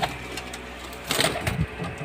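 Golden and Kamagar pigeons in a loft, giving soft low coos with a few brief louder bursts of cooing and rustling, faint and close.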